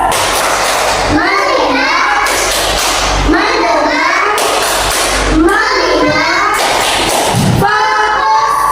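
Schoolchildren in an Indonesian classroom perform a rhythmic focus clap, striking desks and hands in repeated bursts while young voices chant and call out between the beats.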